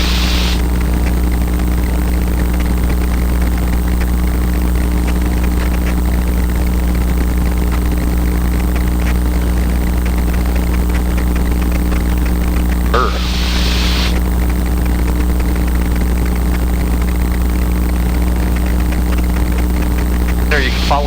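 A small airplane's engine drones loud and unbroken during flight, a steady propeller hum with strong low tones, while a brief burst of static interrupts it partway through.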